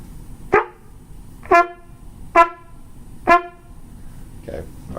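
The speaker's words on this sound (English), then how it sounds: "our notes on the staccato portion sound like this" A wind instrument plays four short, clipped staccato notes, each a bright isolated blip with a gap of silence between, evenly spaced and close, followed by a faint fifth note.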